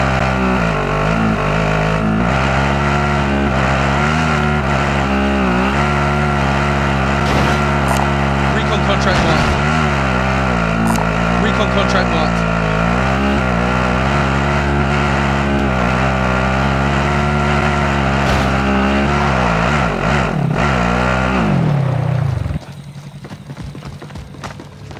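Vehicle driving in Call of Duty Modern Warfare, a steady loud engine drone with shifting pitch that holds for about twenty-two seconds, then drops to a quieter rumble.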